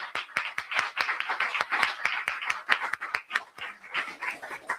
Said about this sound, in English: Please, another round of applause